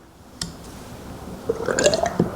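Fork oil from a pre-measured bottle pours into a motorcycle front fork tube, giving soft wet gurgles and drips that build into a thicker liquid glugging toward the end, close and alone.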